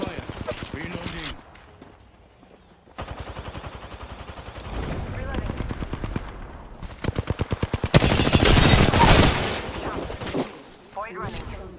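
Automatic weapons fire in a match of the video game Apex Legends rattles in rapid bursts, close and loud, with a heavier sustained barrage near the end, while a player talks over it.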